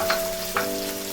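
Ginger sizzles in a hot pan for a ginger-garlic chutney, a steady close frying hiss with two brief stirring scrapes.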